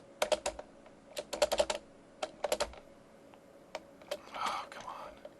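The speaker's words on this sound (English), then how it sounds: "Sorry about the keyboard noise." Computer keyboard typing during a Minecraft FTB Ultimate Pack session, close and fairly quiet, with irregular bursts of rapid keystrokes separated by pauses and a soft breathy noise near the end.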